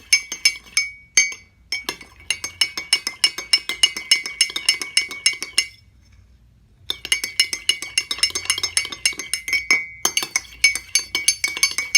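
Glass beakers of warm solution being stirred one by one in a reaction-rate lab, with rapid repeated glassy clinks in steady bursts, a short pause midway, then more clinking, close and clear.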